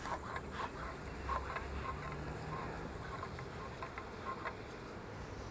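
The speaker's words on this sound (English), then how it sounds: "As you can see, so many bees in there." Honey bees in a hive hum in a steady, soft drone, with occasional clicks and light tapping over it; no voices.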